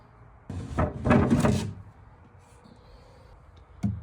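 A wooden drawer on a worn thrift-store furniture piece slides open with a scraping rumble, then a short knock follows a few seconds later in a quiet room.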